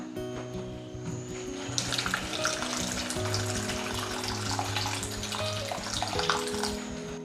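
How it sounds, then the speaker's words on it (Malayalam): Warm water poured into a simmering brinjal curry gravy in a pan, a continuous splashing pour with sizzling and bubbling underneath and a faint steady hum throughout. "നമുക്ക് ഗ്രേവിക്ക് ആവശ്യമായ ചെറു ചൂടുവെള്ളം കൂടെ ചേർക്കാം"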